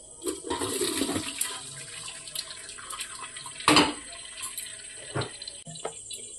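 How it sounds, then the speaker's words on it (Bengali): Cold water pours over drained cooked pasta in a home kitchen, making a loud rushing splash that surges near the middle and then settles into a lighter trickle, with no talking. "একটু ঠান্ডা জল ঢেলে দিচ্ছি।"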